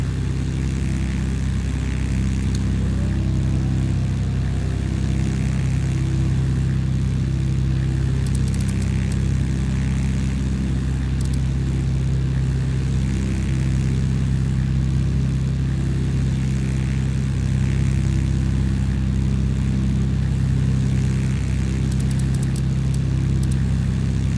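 Propeller engine of an L-19 Bird Dog airplane droning steadily in flight in Microsoft Flight Simulator 2020, a loud, continuous hum with no talking.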